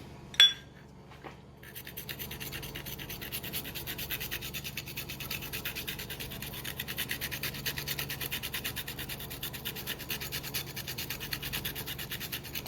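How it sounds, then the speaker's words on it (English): Fresh turmeric root rubbed on a wasabi grater gives a steady, close, rhythmic rasping scratch that runs continuously after a brief knock at the start, with no talking. "this is actually the wasabi grater, the fresh wasabi grater, what I'm using for fresh turmeric"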